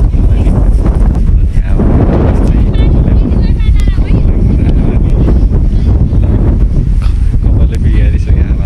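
Strong wind at a lakeside viewpoint in Nepal roars and buffets the microphone in a constant, heavy rush, with a person talking underneath.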